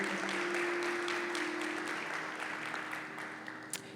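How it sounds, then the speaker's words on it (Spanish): Church congregation applauding after a sermon reading, a sustained wash of clapping from many hands at a moderate distance, with a low steady hum beneath and no speech. "Alguien denle un fuerte aplauso a la palabra del Señor."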